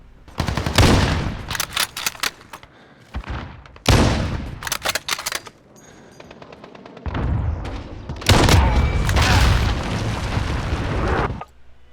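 Sniper shots from the AX50 rifle in Call of Duty: Modern Warfare: several loud, booming reports with long echoing tails, spaced irregularly across the stretch, with gameplay rumble between them.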